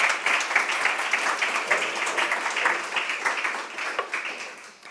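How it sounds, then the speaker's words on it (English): An audience applauds a panel of experts at a crop diversity day event, steady dense clapping that holds for the whole stretch without talk. "The applause, please,"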